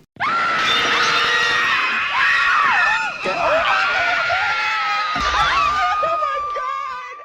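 A woman lets out a long, loud, piercing scream, close and sustained for several seconds with wavering pitch, followed by some breathy laughter at the end.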